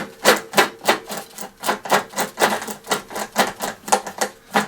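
A rapid, regular ticking clatter from a spinning lawn mower wheel, close up, with evenly spaced clicks of a noisy freewheel mechanism and no talking.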